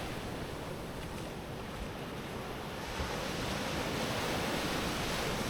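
Ocean surf rolling onto a Costa Rica beach, a dense, continuous roar of breaking waves with a slight swell toward the end, heard close and alone with some wind.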